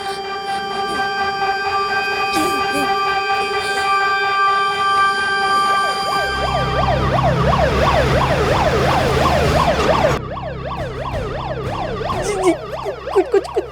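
An ambulance siren wails loudly and steadily, shifting partway through into a rapid oscillating yelp over a deep engine rumble, a heavy emergency vehicle passing close on a street in Maharashtra.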